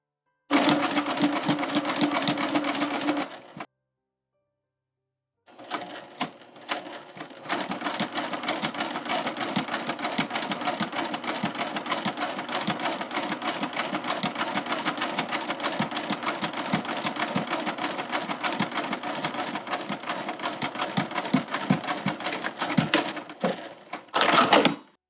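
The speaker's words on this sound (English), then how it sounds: "You can almost hear the needle going into the ditch." Sewing machine stitching in the ditch of a bias-bound seam, a fast, even needle chatter that runs a few seconds, pauses briefly, then resumes steadily and close for a long stretch before stopping.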